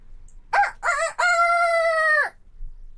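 A single rooster crows loud and close, opening with two short rising calls before one long, sustained cock-a-doodle-doo that cuts off cleanly into quiet.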